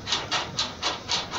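A bolt being unscrewed gives five short, even rasping scrapes in a steady rhythm, close and fairly quiet.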